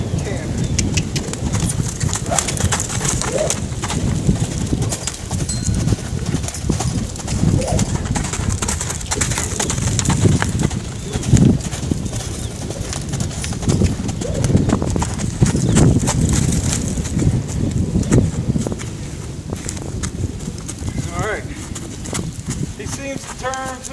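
A horse's hooves clip-clop in a steady rhythmic beat while it canters during a training session, with a rider talking throughout and pigeons cooing nearby.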